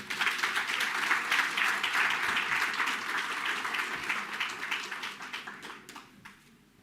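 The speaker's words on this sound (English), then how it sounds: "Can we give them another round of applause?" A crowd applauds, dense clapping sustained for several seconds before gradually thinning and fading out.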